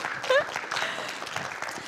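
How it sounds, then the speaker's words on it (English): A church congregation claps in a sustained, moderately loud burst that runs the full length, with a short voice cry near the start and murmurs mixed in. "So let's clap for Jesus."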